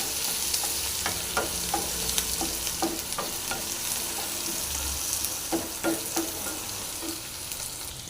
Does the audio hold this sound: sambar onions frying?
yes